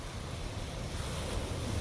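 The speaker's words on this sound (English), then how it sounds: "what could be more soothing than listening to the sound of the waves right in front of me?" Ocean surf washing steadily onto a shore, a continuous broadband rush with wind buffeting the microphone, loud and unbroken throughout without any voices.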